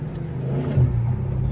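A manual car pulls away under acceleration, its engine droning steadily with a brief pitch change around a gear shift, close and continuous with no talking.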